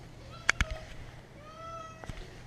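A pet cat meows softly a few times at close range, with faint clicks and knocks around it in a quiet room.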